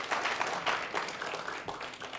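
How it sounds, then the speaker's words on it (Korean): A church congregation at a Sunday anniversary service claps together in a dense, steady wash of applause at moderate volume, with no talk over it. "이때 이제 박수 좀 치고 위로 좀 해줘야 되는 거 아니겠어요?"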